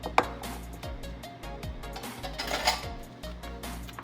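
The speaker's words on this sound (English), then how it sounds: "Now I'm gonna mix the dry ingredients" Dry ingredients for dark chocolate banana bread are stirred in a bowl, giving quick light clinks and scrapes of a utensil against the sides in an uneven rhythm, close and fairly quiet.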